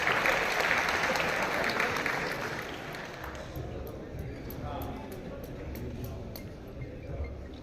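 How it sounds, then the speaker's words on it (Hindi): Audience applause at a formal birth anniversary ceremony in a hall, dense clapping loud at first then easing to a steady softer patter, with a voice speaking over it. "जोरदार तालियों से अभिवादन।"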